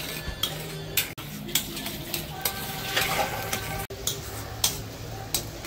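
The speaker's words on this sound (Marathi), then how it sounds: "मसाला चांगला तेल सुटेपर्यंत परतून घेऊया।" Masala stir-fries in oil in a pan with a low steady sizzle, punctuated by repeated sharp clicks and scrapes of a spoon stirring against the metal at an irregular rhythm.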